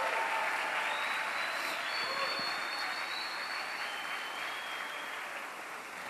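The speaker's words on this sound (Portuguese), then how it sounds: "Jovens, vamos aplaudir os adultos da nossa comunidade" Audience applause for the community's adults at a Shalom vocation gathering, steady, dense clapping from a large crowd lasting throughout, with a faint whistle-like tone above it.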